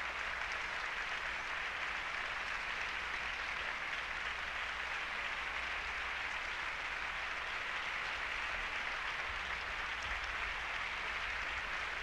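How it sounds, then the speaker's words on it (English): An opera audience applauds at the curtain call of Wagner's Lohengrin in San Francisco, a continuous wash of crowd clapping heard at a distance, even and unbroken with no single claps standing out. "on their feet applauding this fine performance"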